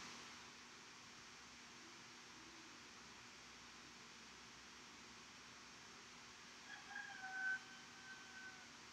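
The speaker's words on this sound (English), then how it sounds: "I also have roosters in my backyard, so sorry for the noise." Backyard roosters crow faintly and far off, with one quiet crow rising near the end over a low, steady background hiss.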